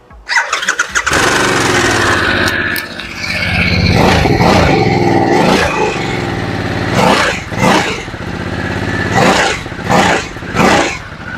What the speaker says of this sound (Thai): เดี๋ยวฟังเสียงเครื่องยนต์กันหน่อยนะครับ